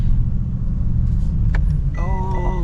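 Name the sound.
Mercedes G63 AMG G-Class engine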